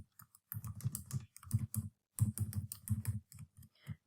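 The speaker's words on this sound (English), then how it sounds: "I'm just going to type in my text" Fingers type text on a computer keyboard in quick bursts of soft clicking keystrokes with brief pauses between runs, close and quiet.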